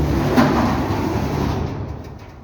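A chemistry lab fume hood's sliding door glides along its track with a continuous low rumbling rush, loud and close, tapering off at the end.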